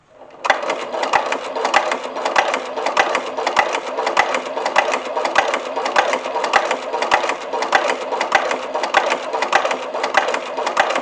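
Sewing machine stitching a leather drawstring pouch: a steady, fast, loud mechanical chatter of close stitches running without pause.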